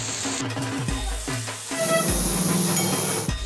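Fried vegetables and paneer hit hot garam masala in a pan, setting off a hissing sizzle with clattering and scraping between bursts and a steady crackle afterward, heard close with no talk.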